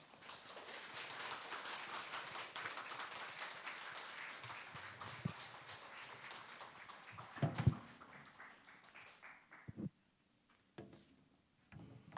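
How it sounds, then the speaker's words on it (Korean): Audience applause welcoming a professor to the front of a church Bible-college lecture hall: steady, dense clapping from a sizable crowd that gradually thins and fades out, ending in a few scattered knocks and near-silence. "여러분 큰 박수로 환영해 주시면 감사하겠습니다"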